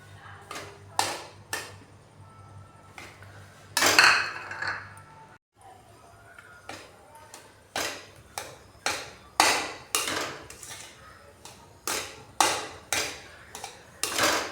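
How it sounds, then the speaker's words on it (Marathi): Semolina (rava) roasting over low heat in a kadhai, stirred with a spoon that knocks against the metal in repeated sharp clinks and scrapes, a steady close rhythm with no talking. "कमी आचेवर चांगला रवा भाजून घ्यायचा आहे"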